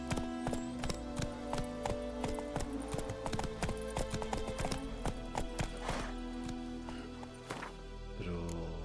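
Horse galloping in The Witcher 3, hooves clip-clopping in a fast, even rhythm with a brief whinny near the end, over in-game background sound.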